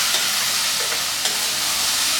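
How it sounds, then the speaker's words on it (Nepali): Spiced mixture with turmeric and salt frying and being stirred in a pan, a steady loud sizzle with soft scraping strokes from the spoon, no voices. "यसमा यसलाई चलाउँ।"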